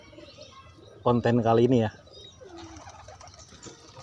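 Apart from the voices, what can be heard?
pet pigeons cooing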